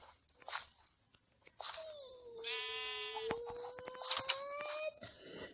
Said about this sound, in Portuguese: Vou pegar essa ovelha